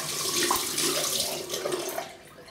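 Tap water runs steadily into a sink to rinse a shaving razor blade, a continuous close splashing rush with no talking.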